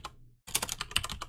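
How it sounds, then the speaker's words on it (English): A command is typed on a computer keyboard: a single key tap, a brief pause, then a quick run of soft clicking keystrokes, close and quiet with no talk. "What you want to do is you want to go ahead and type Python"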